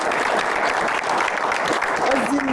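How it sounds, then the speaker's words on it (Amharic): An audience at a Saturday afternoon game show claps in a dense, continuous burst of applause that lasts a few seconds, loud and close. "አጨብጭቡላት።"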